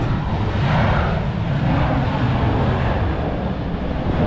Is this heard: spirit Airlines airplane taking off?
yes